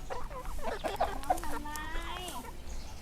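Chickens cluck on a farm while a rooster gives a short crowing call, close and moderately loud, with people talking over the birds.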